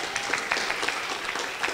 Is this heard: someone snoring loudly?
no